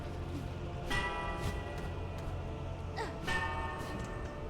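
Metallic bell strikes from Hollow Knight: Silksong gameplay, a few bright ringing hits with lingering tones over steady game music and ambience, clearest near the one-second and three-second marks.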